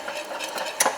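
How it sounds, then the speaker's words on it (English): Spoon stirring a sumac berry and flour mixture in a pot, soft scraping swishes repeated at a steady pace with one sharper clink near the end, quiet and close. "So this one, you kind of have to keep stirring it again for about another 5 more minutes for it to boil."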